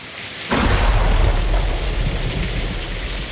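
Heavy rainy-season rain pours down loudly at Lake Chapala, Mexico, after a sudden start, with a deep rumble of thunder underneath echoing, steady and close.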